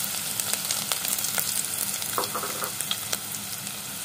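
Onion frying in hot oil for a Malvani-style squid dish, a steady close sizzle with small crackling pops and light stirring over a constant hiss.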